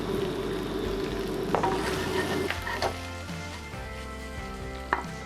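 Steady sizzling of pork stir-frying in a hot pan, with occasional clinks and scrapes of a utensil stirring, no voices.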